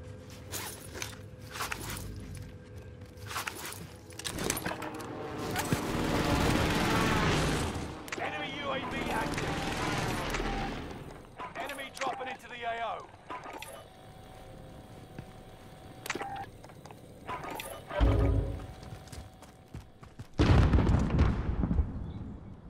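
Cluster strike explosions in the Call of Duty Modern Warfare video game, a chaotic run of booming blasts and crackling gunfire that surges and fades, with a heavy burst near the end.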